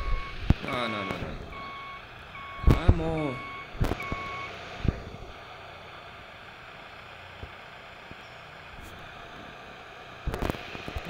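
A truck in a beta truck-driving simulation game sounds steady reversing beeps in short bursts, with clanks and knocks between them, then a long quieter stretch broken by a final sharp noise.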